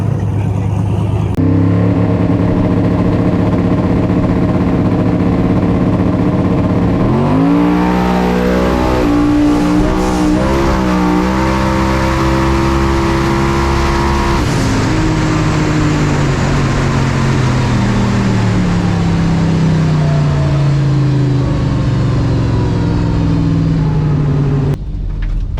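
A loud, close engine roars continuously at TX2K, where first- and third-generation Chevrolet Nova cars are running, revving up sharply partway through and holding high before easing back down.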